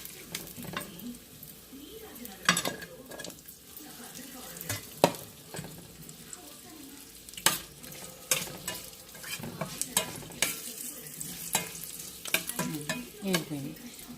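Curry leaves fry in hot oil for a tempering, giving a busy crackling sizzle punctuated by frequent spoon scrapes and stirring knocks, close and continuous.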